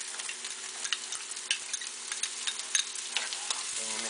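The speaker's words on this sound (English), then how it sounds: "So once you see some browning, put the jalapenos in." Jalapenos fry in a pan, a continuous close sizzle broken by small ticking spatula knocks as they are stirred.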